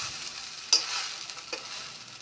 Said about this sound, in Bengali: চাউমিন রান্না করছি